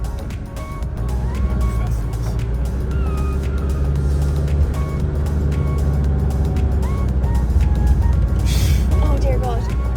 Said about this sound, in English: Our first time ever driving onto a beach.